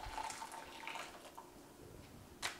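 Hot water poured into a heat-safe bowl while making instant mashed potatoes, a steady soft watery pour running alone for a couple of seconds, close and fairly quiet, with a brief brighter splash near the end.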